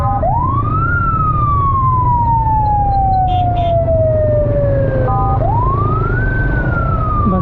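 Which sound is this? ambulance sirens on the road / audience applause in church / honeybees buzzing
ambulance sirens on the road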